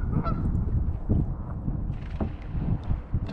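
Geese honk repeatedly in short nasal bursts over steady outdoor rumble and wind, the calls fairly close and irregular.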